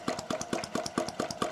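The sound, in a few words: self-built hot-air engine running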